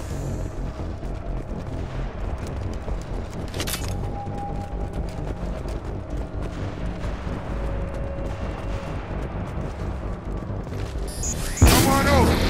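Gunfire and booming weapon fire in the sci-fi shooter game Mass Effect 2, a steady dense barrage under game sound with a sharp burst near the end, with voices speaking over the action.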